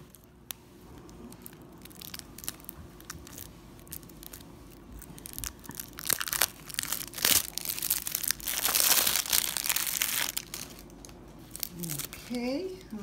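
Plastic wrapping crinkles and tears as a new Margarete Petersen tarot deck is unwrapped, with soft crackling that grows denser and louder midway. A few voice-like sounds come at the end.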